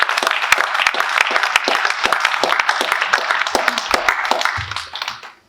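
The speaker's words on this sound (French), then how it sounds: "Est-ce qu'on peut acclamer encore plus?" A church congregation applauding, a lively patter of many hands clapping with sharp individual claps standing out, loud and close before fading toward the end.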